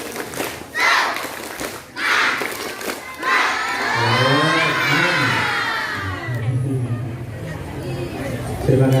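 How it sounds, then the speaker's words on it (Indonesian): A crowd of children in a school event hall shouts the tepuk semangat clapping chant in rhythmic unison bursts that build into a loud, sustained chant, with sharp claps scattered among the voices. "Tepuk semangat."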